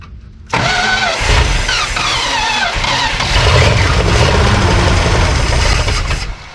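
An abandoned 1972 Plymouth Fury's engine is cranked and catches, a loud close rush of starter whine and squealing belts settling into a rough, steady running roar that continues for several seconds.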